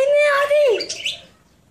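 Small birds calling close by, a loud clear whistled note that bends downward, then a quick tumble of higher chirps fading out, with no talk over it.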